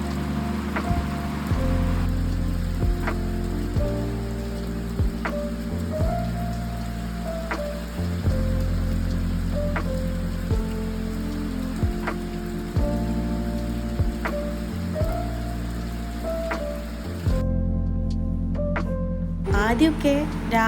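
Rain pours steadily outdoors on a rainy day, an even, close wash of drops on surfaces with gentle music beneath it; the rain sound thins briefly near the end before returning.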